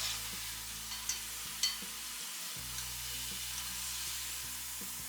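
Soya cheese balls deep-frying in hot oil give a steady, close hiss and crackle with a few sharp pops, briefly dipping as the batch settles.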